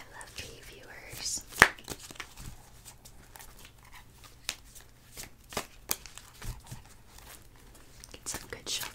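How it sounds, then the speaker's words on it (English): Tarot and oracle cards being shuffled softly and close, a run of light riffling taps and slides with scattered crisp flicks, quiet and intimate in feel. "Get some good shuffles in there."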